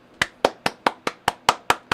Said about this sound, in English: I'll clap for that. I will clap for that.